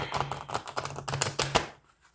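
Oracle cards are shuffled close by, a quick run of crisp papery flicks and taps that rattle in rapid rhythm for about a second and a half before stopping.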